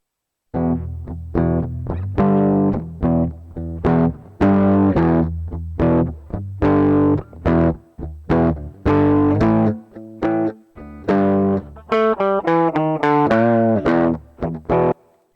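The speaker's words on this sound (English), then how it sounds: "And then let's add a little bit of a saturation." An electric guitar run through saturation and distortion effects in Ableton plays a series of crunchy, sustained distorted notes and chords, loud and upfront with short gaps between phrases, ending in a quicker rising run of notes.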